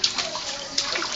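Water splashes and sloshes continuously as a child plays, with a couple of sharper splashes standing out near the start and middle.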